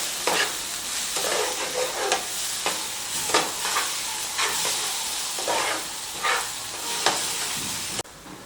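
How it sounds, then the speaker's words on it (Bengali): Egg is stirred into sizzling street-style masala in a pan, with repeated rhythmic scraping strokes over a continuous loud frying hiss. "দিয়ে এটাকে আমি সব কিছুর সাথে মিশিয়ে একটু ঝুড়ো মতো করে নেব"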